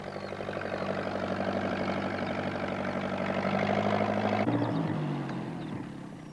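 A tractor engine chugs steadily and loudly throughout a bumpy ride, holding an even idle-like throb before its tone drops and shifts near the end.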